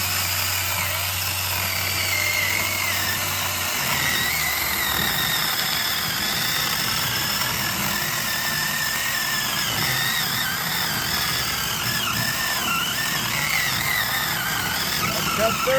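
A Zeeksaw mini chainsaw cutting through heavy oak firewood, a continuous high buzzing whine with rasping chain noise that holds steady without bogging, close and loud for the whole stretch.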